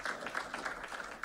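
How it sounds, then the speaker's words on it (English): An audience at a board of education meeting applauds new principals, a dense, steady wash of clapping that holds fairly loud and even for about a second before rising again at the end. "One more round of applause for all of our new principals."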